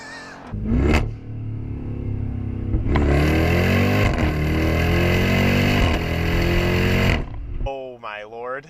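A 2018 Jeep Grand Cherokee Trackhawk with an automatic gearbox accelerates hard; a loud, close engine roar climbs in pitch through a long pull, then cuts off, with excited talk at the start and end.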